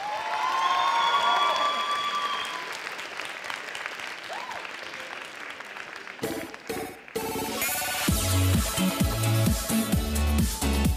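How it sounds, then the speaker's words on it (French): Audience at a cosplay contest bursts into applause and cheering after a performance, with a murmuring crowd and a few shouts first, then loud dense clapping joined by booming music for the last several seconds. "je vous prierai de faire un tonnerre d'applaudissements pour Ophelia Evans"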